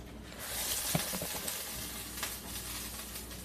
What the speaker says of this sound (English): Cut the heat down a little because it's boiling over.